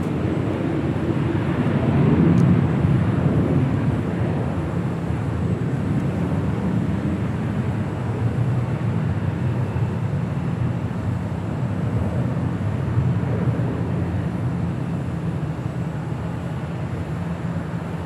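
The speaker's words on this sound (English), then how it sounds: "that Delta 767 300ER coming in from JFK, flight 536" A Delta 767-300ER jet arriving from JFK at Los Angeles International Airport, heard as a continuous low roar that swells early and then holds steady, broad and rumbling.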